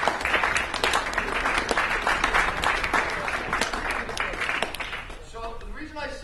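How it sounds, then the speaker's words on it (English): Crowd of youth soccer players clapping and applauding together after a talk, a dense steady wash of claps that fades out near the end, with faint voices underneath. "So give yourselves a big round of applause."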